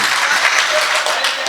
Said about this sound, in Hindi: पूरा मजबा ताली बजाएगा तब मजा आएगा इस गीत को सुनने में